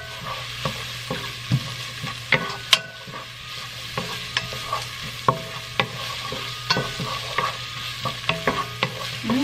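A spoon scrapes and knocks around a pan while mildly spiced home cooking is stirred, giving a steady series of sharp clacks over a soft sizzle, close and with no talking.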